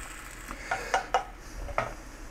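Egg patty cooking in a pan for an omelet, with a soft steady sizzle broken by several sharp metallic scrapes and taps of a utensil against the pan, close and fairly loud.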